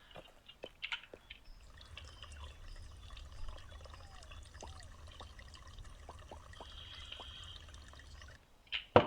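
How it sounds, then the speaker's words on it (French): Water refilling in the video game Pumpkin Panic, a soft trickling and pouring stream with light drips, fairly faint and steady for several seconds, ending in a brief louder splash. "On va recharger de l'eau."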